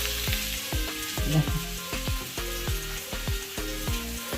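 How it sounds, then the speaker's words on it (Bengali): Potatoes fry in a pan with a loud, steady sizzle, close up. A regular run of clinking stirring strokes is heard about twice a second, and nobody speaks. "এখন আমি আলু ভাজছি"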